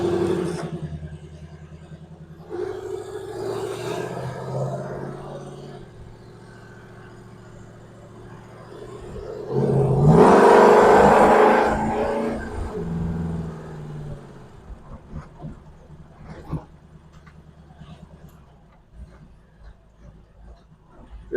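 A 1932 Ford Victoria V8 hot rod rumbles through a cruise, its engine swelling into a loud rev about halfway through before settling back to a throaty idle, heard from inside the car.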